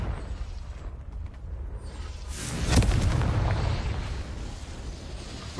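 A Confringo fire spell explodes in the Hogwarts Legacy video game, a loud, dense rumbling blast that swells near the middle and then rolls on with sustained crackling noise.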